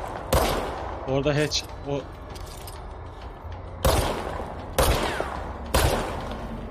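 Loud, sharp gunshots in a shooter video game. One lands early, then three evenly spaced blasts follow near the end. Someone talks briefly between the shots.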